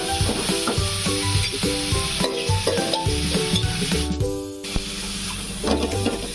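Prawns marinated with lemon juice frying in a pan, giving a loud, steady, close sizzle throughout, with a brief drop in intensity partway before the crackling resumes.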